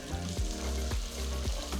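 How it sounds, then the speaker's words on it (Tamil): Shallots and garlic sautéing in a pan for a drumstick-leaf chutney, a close, steady sizzle of frying with a few soft stirring scrapes at regular intervals. "இது கூட 10-15 பல்லு பூண்டு சேர்த்து நல்லா வதக்கிக்கலாம்."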